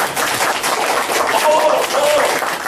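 Lecture audience breaking into sustained applause, a dense wash of many hands clapping steadily and fairly close, with a voice speaking briefly over it.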